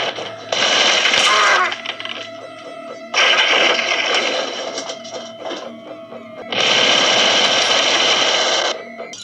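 Mac-10 machine gun fired in a scene from the film Escape from New York, three long rapid automatic bursts separated by short pauses, loud and close, with movie soundtrack between bursts.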